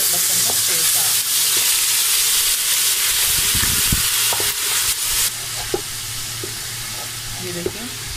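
Ginger garlic paste sizzles and fries loudly in a pan over medium heat for mutton kofte curry, with steady hissing and occasional stirring clinks throughout.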